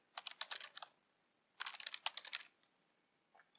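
Close-up keystrokes on a computer keyboard while a password is typed: two quick bursts of rapid clicking, then a couple of isolated taps at the end.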